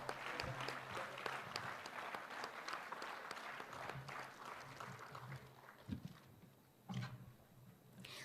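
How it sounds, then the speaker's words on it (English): An audience at a lecture gives a newly welcomed speaker a steady round of applause, heard faint and distant and continuing for several seconds. "I welcome you, sir, with a big round of applause."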